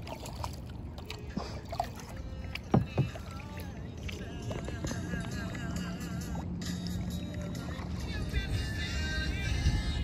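A kayak is paddled across a lake, with gentle water swishes and a couple of sharper paddle splashes close by over steady, quiet outdoor ambience.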